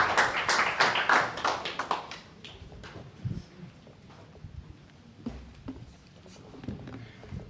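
Applause from a forum audience in a meeting room, a dense burst of clapping for roughly two seconds that quickly thins to scattered taps and faint room noise.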